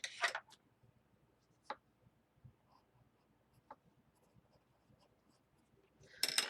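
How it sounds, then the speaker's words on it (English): A pencil writes on a wooden board in a quiet workshop. Short scratchy strokes are separated by long pauses, with a longer burst of scratching at the end. "So I'm going to write on there"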